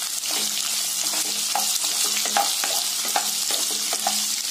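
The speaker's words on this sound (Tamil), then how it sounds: "சேர்த்திட்டு இதையும் அப்படி பாருங்க நல்ல ஆயில்ல பொன்னிறமா வதக்கிக்கலாங்க" Onions sauté in oil with ginger garlic, a steady close sizzle with repeated rhythmic stirring scrapes from a spatula against the pan.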